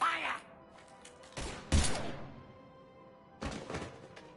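Gunfire in the video game Mass Effect 3: a couple of short, sharp bursts of shots a couple of seconds apart, heavy thuds amid a low game ambience, with no talk over them.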